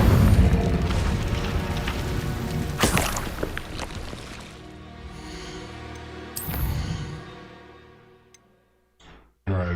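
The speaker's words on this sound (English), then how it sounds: "Alright, so I need to cast one more Incendio." An Incendio fire spell is cast in a wizarding video game, giving a couple of loud whooshing booms against a rumbling game backdrop, with a voice heard briefly.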